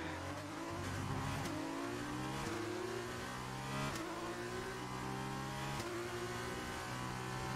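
Formula One race car engine from F1 2019 screams at high revs, with sharp upshifts and downshifts under braking, loud and continuous and heard alone.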